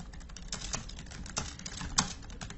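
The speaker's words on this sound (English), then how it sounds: "You can probably hear me typing to him" Quick, uneven typing on a computer keyboard, a near and fairly quiet stream of key clicks with a few louder strokes.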